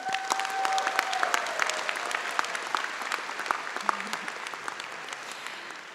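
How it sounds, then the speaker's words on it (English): Commencement audience at a computer science school ceremony applauding, a broad sustained wash of many hands with individual claps popping out, loud at first and slowly tapering. "a round of applause for all of those who have supported you"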